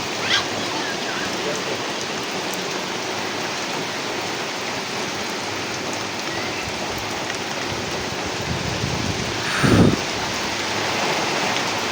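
Steady rain pours down without pause in a village, a dense hiss that continues the whole time, with a brief louder splash near the end.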